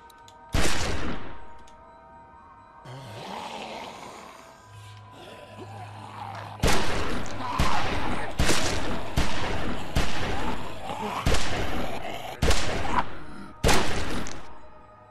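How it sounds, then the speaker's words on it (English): Gunfire rings out against zombies in The Walking Dead Season 1 video game: one loud shot, a quieter stretch, then a string of about nine sharp, evenly spaced shots, each booming and decaying. "Okay, we're just going to shoot them all."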